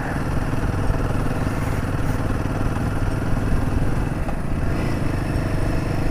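A KTM motorcycle engine runs steadily in Ladakh, a loud, constant mid-pitched rumble with no pauses throughout.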